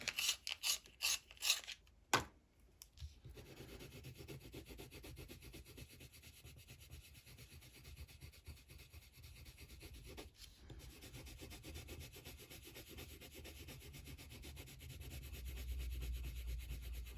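Colouring pencil being sharpened, a few sharp clicks at the start and then a steady, close, soft scraping rub that continues with no voices.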